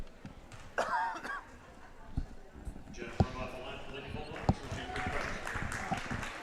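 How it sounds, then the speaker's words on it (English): A commentator at a girls' varsity basketball game, Milton-Union against Bethel, coughs once sharply near the start, while basketballs thud on the gym floor in scattered bounces and faint voices echo around the court. "Excuse me as I cough"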